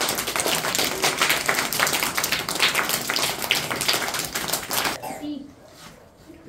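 Students applaud at a school quiz competition prize round, a dense burst of many hands clapping fairly close for about five seconds, then stopping abruptly into quieter room noise with faint voices.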